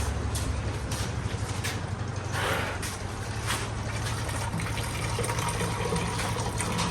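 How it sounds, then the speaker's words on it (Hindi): Water, about two litres, pours steadily into a sprayer tank on a farm, mixed for a tick and insect spray. It makes a continuous splashing gush that stays even from start to finish. "इसके अंदर अब 2 लीटर पानी ऐड होगा"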